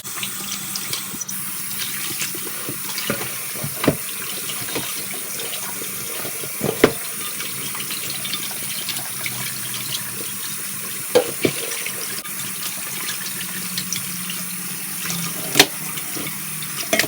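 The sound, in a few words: washing sacrificial meat under running tap water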